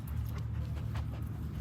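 A dog pants quickly and steadily at close range at a dog park, the soft rhythmic breaths running over a low background rumble with no voices.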